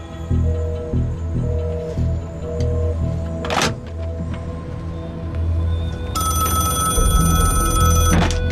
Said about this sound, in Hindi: सर, वही दानियाल खान का फोन ह